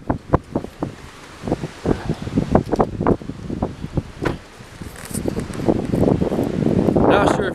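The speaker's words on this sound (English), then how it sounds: "I'm tired of the wind." Wind gusting on a mountain, buffeting the microphone in choppy bursts that build into a steadier roar, with people talking over it.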